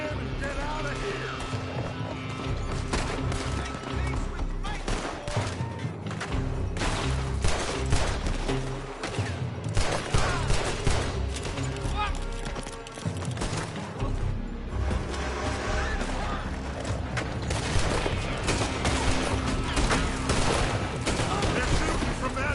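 Dense gunfight in Red Dead Redemption 2, with rapid overlapping rifle and pistol shots and volleys crackling continuously over a loud, busy game soundscape with music, some blasts sounding close and others distant.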